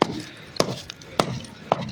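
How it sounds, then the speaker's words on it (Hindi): Dried cow-dung cakes being broken apart by hand beside a village clay stove: four sharp, close cracks evenly spaced about half a second apart, with faint low background noise between. "तो अब इनको फोड़ने का काम करते हैं, देखो इस प्रकार से फोड़ते हैं"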